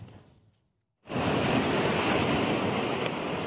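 Rough monsoon sea surf roars in after a short quiet gap, a loud continuous wash of breaking waves with wind buffeting the microphone.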